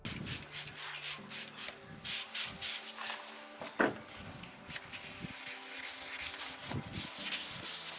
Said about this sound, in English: Use 2500 grit sandpaper, keep spraying plenty of water, and let's get sanding.